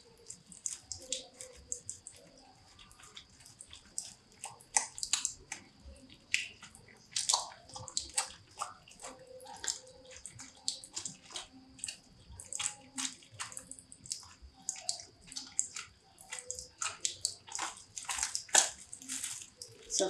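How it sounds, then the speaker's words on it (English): Hands lathered with soap are rubbed together up to the elbows, making wet squishing and slippery friction sounds in irregular bursts, close and fairly quiet. "you put reasonable amount of soap, then you start"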